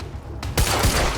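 Gunfire in a Quantum Break firefight: a sudden loud broadband burst of shots, with two heavy low thumps and a sustained crackling roar close by.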